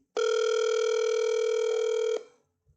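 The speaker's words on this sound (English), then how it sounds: "Let me give him a quick phone call" A steady telephone tone sounds as a call is placed, one continuous electronic buzz lasting about two seconds before cutting off, clear and alone.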